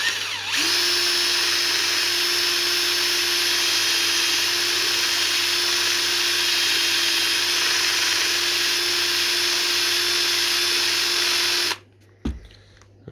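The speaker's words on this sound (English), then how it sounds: "Let's get that in the drill and try it again." A handheld power drill runs steadily at high speed, boring a pilot hole for a DIY gravity-fed fish fry system. It holds one constant whine for about eleven seconds and then cuts off abruptly.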